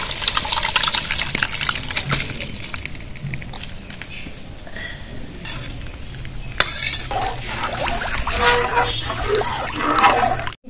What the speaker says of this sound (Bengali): জলটা গরম আছে, ঢেলে দেব।